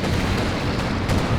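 A flame mortar shell bursting in Company of Heroes 2, a dense rumbling boom of artillery fire and explosion that fills the short stretch at constant loudness, with no talk.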